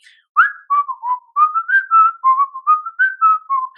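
A person whistles a clear, lilting melody, a short phrase of connected notes rising and falling, close and fairly loud with no other sounds.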